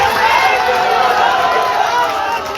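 A large political rally crowd cheers and roars in a continuous loud swell, filling the space with a dense wall of voices that fades slightly toward the end.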